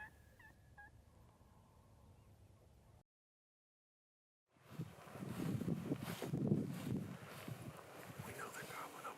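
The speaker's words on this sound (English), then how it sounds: "We know they're gobbling over here somewhere." Wild turkeys gobble in the distance in the Texas outdoors, faint calls heard first over light wind, then a gap of silence and louder wind and rustling noise close to the microphone.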